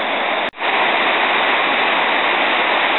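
A waterfall along the Great Ocean Road rushes as a loud, continuous roar of falling water, close and unbroken apart from one brief dropout near the start.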